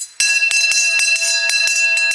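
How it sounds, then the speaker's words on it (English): A hand bell rings several times in quick succession on a stage, bright clanging strikes in a steady rhythm, each ring overlapping the last, loud and close with no voices. "Pick up your bell. Pick up my bell. Ring it 3 or 4 times."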